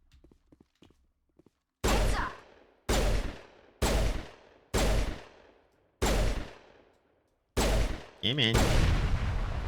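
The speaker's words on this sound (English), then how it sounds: "I think we can just shoot those." Gunfire in the video game Mass Effect Legendary Edition: six loud, sharp blasts spaced roughly a second apart, each ringing out with a decaying tail, the last running into a sustained roar, with a voice speaking briefly.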